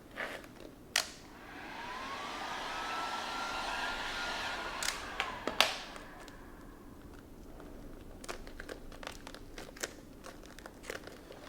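A heat gun blows a steady, fairly loud rush of air for about four seconds while vinyl is stretched over the side mirror cap of an S550 Ford Mustang. Crinkles and clicks of handled film come before and after.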